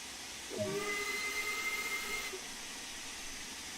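A steam locomotive in Train Sim World 2 lets out a steam whistle blast of about two seconds over a steady hiss of steam, then settles back to a continuous hissing background.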